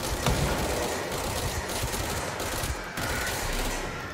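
Dense, continuous bursts of gunfire from the video game Control, with rapid overlapping shots sounding loud and steady, without any voices.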